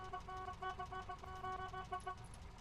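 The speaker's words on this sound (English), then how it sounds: "Let's honk the horn." A car horn in the Phasmophobia video game sounds in a string of short, pulsing honks that run through the whole stretch, fairly faint against low background noise.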